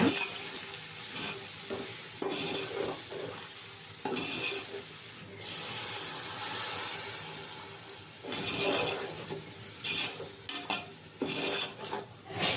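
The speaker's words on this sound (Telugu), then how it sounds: "ఇవి రోజా పూలు ఉంటాయి కదండి చిన్నవి అవి వేస్తున్నాను ఇప్పుడు మనం అంతా మిక్స్ చేసుకుంటాం" A home kitchen where spices and small rose petals are stirred into chicken biryani, giving steady scraping and mixing noises over a soft sizzle with occasional pot clatter, close and continuous with no voices.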